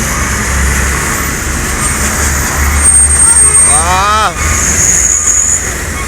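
NPM Sultan Class coach bus passing along a Sumatran road, a loud steady traffic roar with a rising and falling horn-like whine midway, a brief air-brake hiss and some background chatter.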